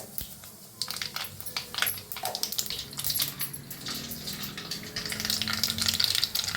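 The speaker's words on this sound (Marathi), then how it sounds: "तेल चांगलं तापले, आता त्याच्यात घालूया जिरं. चांगलं भाजले, आता मोहरी घालूया." Cumin and mustard seeds sizzle and crackle steadily in hot oil in a pan on a gas stove, a continuous close frying hiss with small pops that grows slightly louder toward the end, no talk.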